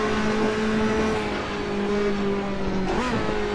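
A race car in the Assetto Corsa racing game drones with a loud steady engine note, then engine pitch shifts abruptly near the end as it downshifts, with no talk over it.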